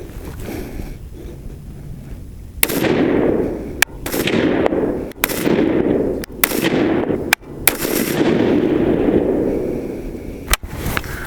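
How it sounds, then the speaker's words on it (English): Five sharp gunshots from a Lead & Steel JAG carbine fired with a hot barrel at an outdoor range, loud and close, spaced about a second apart over steady wind noise. "Now that the barrel's hot, we'll go ahead and send 5 more rounds and see if the group changes at all."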